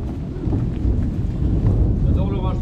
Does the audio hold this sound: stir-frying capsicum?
no